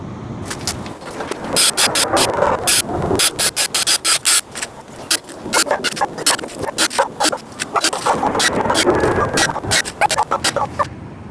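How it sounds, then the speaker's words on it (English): Screws driven into 2x4 pine for a workbench, a rapid rattling chatter of the driver biting into the wood in several close bursts, fairly loud and near, with faint room noise between. "I'll put some screws in now just to keep it together."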